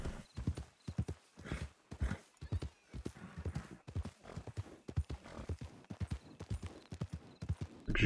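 Rapid rhythmic hoofbeats of a trotting horse in Red Dead Redemption roleplay, steady and close, with an occasional snort or whinny mixed in.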